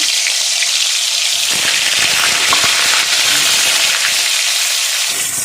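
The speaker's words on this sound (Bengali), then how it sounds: "তেল গরম হয়ে গেছে, আমি পটলটা প্রথমে ভাজবো, তার জন্য পটলটা ছেড়ে দিলাম।" Pointed gourd pieces dropped into hot oil, a loud, close, continuous frying hiss with bubbling crackle that holds steady for several seconds.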